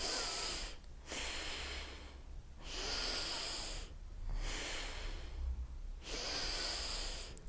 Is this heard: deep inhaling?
yes